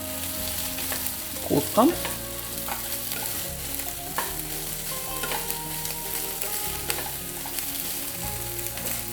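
Frying in just a little oil with mutton fat for a soybean and chana dal dish: an even sizzle broken by repeated scraping stirs and clattering spatula strokes against the pan, close and fairly loud, with one brief spoken word.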